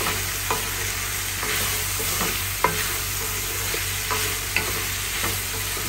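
Garlic and onion frying in rendered pork fat in a covered pan, a steady soft sizzle with a few light clinks of stirring, close and fairly quiet.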